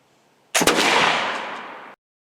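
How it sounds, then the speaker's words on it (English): A Model 1777 French flintlock hunting musket fires a round ball: one sharp, loud blast with a brief crackle at ignition, then a long roaring decay lasting over a second before cutting to silence. "This is going to be second round ball shot, and with more than ample powder in the priming pan."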